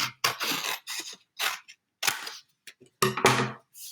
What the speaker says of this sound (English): And then I will cut it with my scissors.